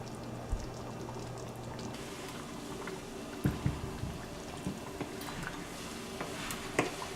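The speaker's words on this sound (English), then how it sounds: "Look at it just simmer on down. Cook it low and slow." Chili simmering low in a pot gives a faint, steady bubbling with scattered soft pops and spits, quiet and close.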